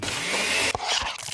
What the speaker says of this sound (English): That's the sound of a smoothie bowl being made fresh,